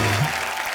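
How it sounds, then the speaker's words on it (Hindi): A television comedy show audience on The Kapil Sharma Show breaks into a brief, dense burst of clapping, loud and close. "जोरदार तालियां हो जाएं"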